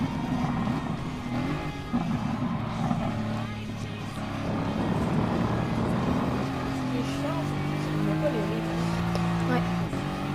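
A race car in Gran Turismo Sport on PS4 revs and accelerates, its engine tone rising and shifting through gears at moderate loudness, with speech over the engine.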